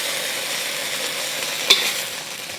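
Beef pieces frying in oil in a pan, a steady close sizzle with one brief scrape of a utensil stirring partway through, no talking.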